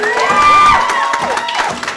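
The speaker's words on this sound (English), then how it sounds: "Cheap applause, shut up." Audience applause and cheering at a theatre awards ceremony, a loud burst of clapping with whoops and shouting voices on top, close and lively throughout.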